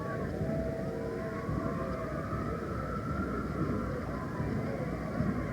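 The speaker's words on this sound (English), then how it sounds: "And still the sirens continue." Sirens wail steadily along a winter carnival parade route in St. Paul, with rising and sustained tones over a noisy crowd background, moderately distant.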